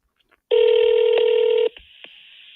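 A telephone keypad sounds while someone dials the police: one steady electronic tone holds for about a second, loud and close, then cuts off, followed by faint clicks.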